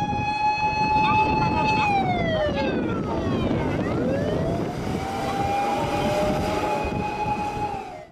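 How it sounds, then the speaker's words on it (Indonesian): A loud fire truck siren wails continuously, its pitch sweeping down and back up as if passing close by, with a rumbling engine beneath. "Di sini ada mobil pemadam kebakaran."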